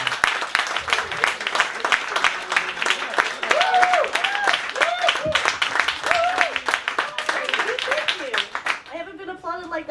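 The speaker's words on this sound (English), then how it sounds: "big round of applause" Lively clapping and cheering from a small comedy show audience welcoming a comedian, with whoops and voices shouting over the applause before it fades and someone starts speaking.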